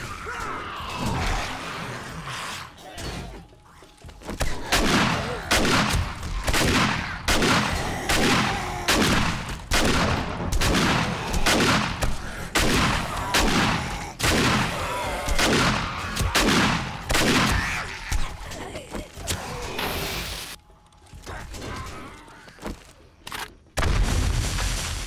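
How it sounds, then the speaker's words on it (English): Bomb blast and gunfire in 7 Days to Die on a horde night, a rapid, relentless string of loud shots and booms crackling almost continuously for twenty-odd seconds, with a heavier burst near the end. "Let's throw a bomb in there and see what happens."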